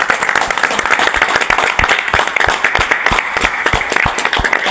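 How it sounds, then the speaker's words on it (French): An audience at a summer casting event breaks into loud, close applause, with sharp individual claps standing out above the steady crowd noise throughout. "On vous applaudit bien fort."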